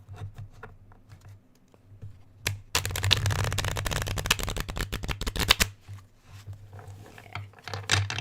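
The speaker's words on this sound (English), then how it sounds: "Let's get another shuffle in there." A deck of cards being shuffled up close, with a crisp, crunchy riffle burst of about three seconds in the middle, framed by quieter card handling and a couple of sharp snaps before and after.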